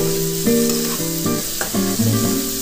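Vermicelli fries in hot oil for a restaurant-style breakfast, a continuous sizzle with stirring scrapes over a tonal background.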